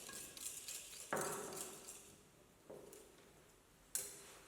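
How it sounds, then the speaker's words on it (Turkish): Teaspoon stirring yeast into about 100 ml of lukewarm water for boza: a few faint clinks and taps of metal against a cup, spaced apart, with soft scraping between. "çay kaşığı mayamızı yaklaşık 100 mililitre kadar suyla, ılık suyla karıştırıyoruz"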